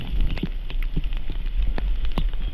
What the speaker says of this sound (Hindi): बारिश बहुत ज़बरदस्त हो रही है